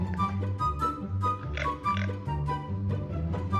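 A cartoonish pig oinks repeatedly in Minecraft over a looping game soundtrack, short grunts popping up every half second or so.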